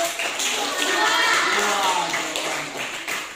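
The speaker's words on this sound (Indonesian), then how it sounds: "Tepuk tangan untuk kelompok." Students in a classroom clap for a group of classmates, a dense, steady patter of many hands lasting a few seconds, with voices mixed into the noise.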